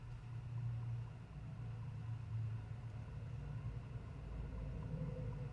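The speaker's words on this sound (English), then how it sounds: "But the motor is a little loud." The small electric motor inside a 1991 Mrs. Santa Motionette animated holiday figure runs with a faint, continuous low hum and whir. It holds steady and even for the whole stretch.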